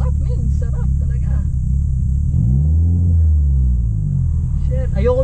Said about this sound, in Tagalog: Pati yung titanium exhaust, hindi siya sobrang ingay, pero raspy